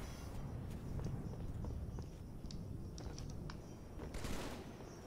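Halo 3 gunfire, including a sniper rifle, sounds as faint, distant sharp cracks scattered through a low rumbling background of battle noise, with no voices.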